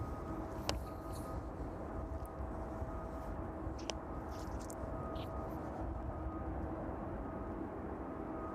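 A Boeing 777 cargo aircraft departs East Midlands Airport, heard as a faint, steady distant engine rumble behind wind, with a few light clicks and no clear talk.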